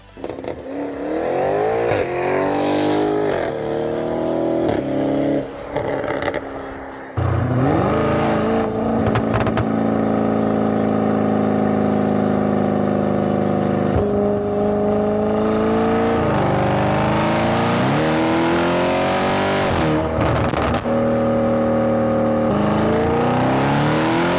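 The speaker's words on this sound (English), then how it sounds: "boosted V8, that thing moves. And now it's got the sound to match it." A powerful boosted V8 engine in an Audi RS7 with new downpipes roars loudly and continuously, revving up and down with deep, throbbing exhaust tones and occasional sharp bursts of acceleration.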